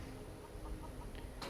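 A chicken in Skyrim clucks faintly a few times against a quiet, steady background hum of the game world.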